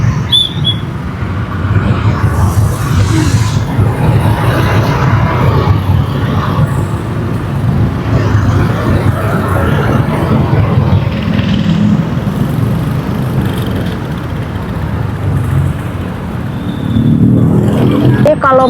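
Congested road traffic during the evening commute home, a continuous rumble of engines and road noise with passing vehicles swelling and fading, heard under talking throughout.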